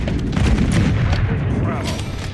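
Gunfire in a Call of Duty match rattles in repeated sharp bursts and booms over a dense battle din, loud and close, with voices mixed in.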